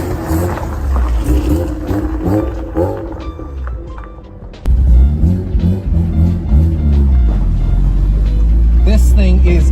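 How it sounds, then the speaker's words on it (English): A rotary engine swapped into a Subaru BRZ idles with a choppy, lumpy burble, then jumps louder as the throttle is blipped and held, a raspy roar close by with a voice talking over it. "This thing is idling, so I'm just gonna give it a little bit of gas."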